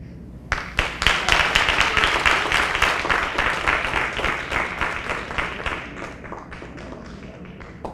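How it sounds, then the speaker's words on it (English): An audience at a 2016 MLK oratorical contest in Lakeland gives contest speakers a round of applause, with sharp individual claps thickening into steady clapping that then thins out gradually toward the end. "Give them another round of applause, please."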